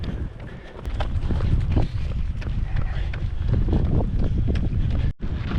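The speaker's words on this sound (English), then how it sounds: "Pretty significant headwind right now, so it's slowing me down a lot." Strong headwind buffets the microphone of a runner during marathon training, a steady loud rumbling roar with footfalls and rustle inside it that cuts out briefly near the end.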